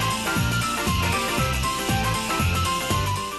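Rapid, continuous gunfire from a helicopter's weapon in the Wii game Puchi Copter Wii, loud and dense with repeating rhythmic bursts over game music, no pauses across the stretch.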